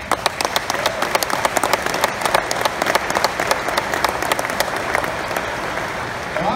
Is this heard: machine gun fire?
no